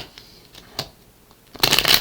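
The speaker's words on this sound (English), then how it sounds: "as I was shuffling, pre-shuffling the two oracle decks up here" Oracle card decks being shuffled, with a few soft taps and rustles followed by a quick burst of riffling cards at the end.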